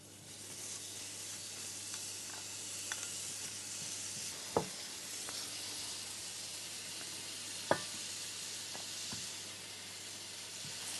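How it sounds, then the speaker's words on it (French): Onion sears in olive oil in a hot frying pan, a soft steady sizzle and hiss heard close but fairly quiet, broken by a couple of sharp clicks or taps, with no speech. "On fait bien chauffer les poêles pour saisir l'oignon puis le poivron."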